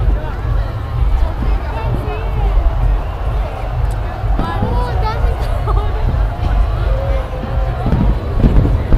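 New Year countdown fireworks over Hong Kong harbour watched from a distance at Central Piers, low rumbling bursts beneath a steady crowd hubbub, with people talking nearby throughout.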